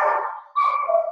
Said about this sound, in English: dog suddenly, she decided to become awake.